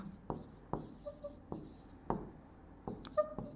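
Pen or chalk writing out a maths statement for a coordinate geometry example, several distinct scratchy strokes spaced irregularly, faint and close with no talk over them.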